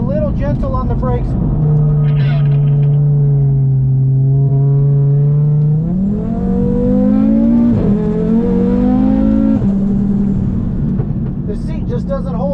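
A car accelerating hard on a race track, the engine tone climbing steadily in pitch through the gears, loud and close from inside the cabin, with a voice speaking over it.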